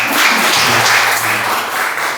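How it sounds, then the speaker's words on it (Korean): Audience applause at a Korean public presentation on a redevelopment project, a short burst of clapping from an indoor crowd, fairly loud and close, with no speech over it. "어쨌든 다시 한번 박수 주십시오."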